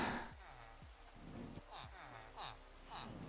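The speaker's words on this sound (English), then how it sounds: "Now it sucks is that it's raining." Rain falls steadily in the video game Minecraft, a soft, constant hiss running throughout with faint game tones and light background music beneath, no talk.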